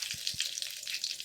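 Mustard seeds and curry leaves sizzle in hot oil for tempering, a bright crackling fry with a couple of soft low knocks near the start, close and steady but fairly quiet.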